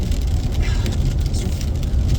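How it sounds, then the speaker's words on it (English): Heavy downpour heard from inside a moving car, a dense steady wash of rain drumming on the body over a low road rumble, continuous and close. "it's actually insane how hard it's raining"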